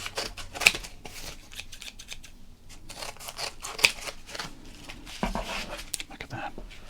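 Scissors snip through a 1991 Topps baseball card box in crisp, irregular cuts, close and clear, with a few sharper clicks of the blades and light cardboard rustling between them.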